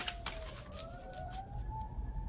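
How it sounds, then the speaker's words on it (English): A siren wails in the distance with a slowly rising and falling tone, steady under faint background noise and occasional clicks. "You hear them sirens?"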